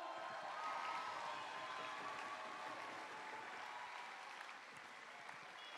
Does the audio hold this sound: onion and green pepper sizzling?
no